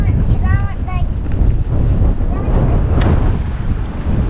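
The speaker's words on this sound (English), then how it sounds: "A lot of wind today." Strong wind buffets a sailboat on a blustery day with gusts near 30 knots, a loud, steady roar of wind and water that runs the whole time, with a brief voice-like tone early on.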